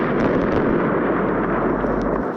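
Bomb blasts in the video game WorldBox, a loud, dense rumbling roar of explosions that holds for a couple of seconds and then fades slightly.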